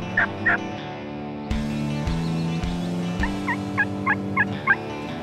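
Osceola wild turkeys gobble in rapid bursts, several close, loud rattling calls repeating near the start and again in a cluster toward the end, with a low hum running underneath.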